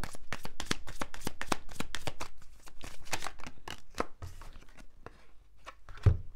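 Tarot cards are shuffled close up in a quick series of crisp riffling snaps, followed by a few slower slaps and a soft thump as cards are drawn and laid down.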